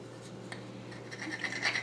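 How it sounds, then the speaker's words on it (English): Nutmeg is rubbed against a grater over coconut milk and spices for Jamaican-style bread pudding, a soft, close rasping scrape that builds slightly toward the end over a low steady hum. "he's grating the nutmeg in the coconut milk and the other spices"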